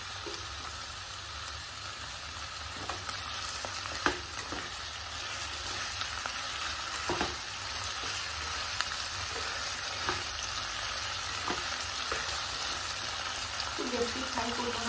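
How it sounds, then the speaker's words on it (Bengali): Garlic and green chillies frying in a pan: a steady, close, dense hiss of sizzling oil that holds at an even level throughout, with a few faint knocks from stirring. "রসুন, কাঁচা লঙ্কা সব হালকা করে একটু ফ্রাই করে নিই।"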